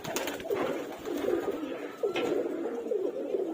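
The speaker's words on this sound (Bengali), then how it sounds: "কবুতরগুলো যখন একসাথে সব বামে বসে আর এই যে বাকি কিছু উঠতেছে" A flock of pigeons sunning outdoors coos steadily as they settle together, with repeated soft, rolling coos overlapping close by and some wing flutters as others lift off.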